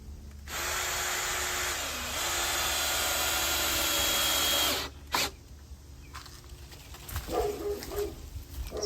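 A power drill drives a screw into a wooden fence panel, a loud steady whine that dips in pitch midway and cuts off after about four seconds, followed by brief clatter and quieter handling noise.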